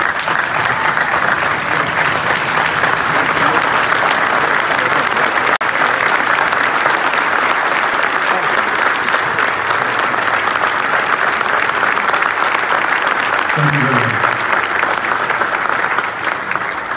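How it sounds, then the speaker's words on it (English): Sustained standing applause from a large crowd at a swearing-in ceremony, dense steady clapping that continues loudly throughout with a faint murmur of voices underneath. "I'd like for all of us to give a very well-deserved standing round of applause for these two incredible human beings, Zuhair Alawiyyi and Hajj."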